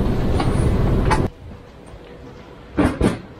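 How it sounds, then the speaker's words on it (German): A train pulls into a station on a snowy day in Bremerhaven. Loud, broad rumbling and clatter carry the first second, then drop sharply to a quieter hum. Two short knocks or clunks follow near the end, like doors or boarding. No talk. "guckt euch an, wie dieser versiffte, dreckige Zug hier herbeifährt."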